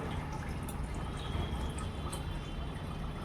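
Supplied tap water gushes steadily into a container, a dense continuous rushing splash with faint drips on top, close and unbroken throughout.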